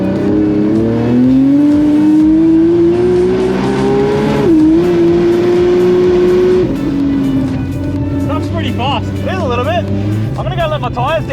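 A turbocharged car on street tyres accelerates hard in a Brisbane roll race, its engine note loud and rising steadily for several seconds, dipping at a gear change and then easing off. Faint chirps come later, and a voice talks over it.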